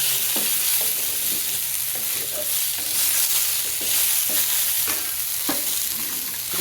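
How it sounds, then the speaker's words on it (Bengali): Flat beans tossed into a hot frying pan and stirred, a steady sizzle of frying running throughout with repeated scraping stirs at a regular pace, close and fairly loud, no talking. "শিমটা দিয়ে দিচ্ছি, দিয়ে কিছুক্ষণ নেড়ে আমি আঁচটা কমিয়ে রাখবো"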